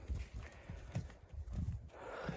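A stallion named Zheton on a horse farm in Novooleksandrivka, with low thudding hoof or body sounds repeating irregularly at close range, fairly quiet and without speech.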